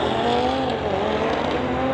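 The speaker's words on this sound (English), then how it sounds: "Big launch for Jerry" A 1966 Acadian drag car with a Chevy 540 engine launches hard off the line, its close engine a loud, raw roar that fills the whole burst.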